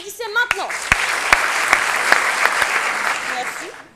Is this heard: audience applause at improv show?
yes